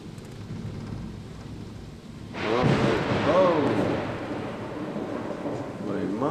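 Heavy thunderstorm rain pours off a roof, too much for the drain, and suddenly swells into a loud, dense, steady rush of water. A person talks over the downpour.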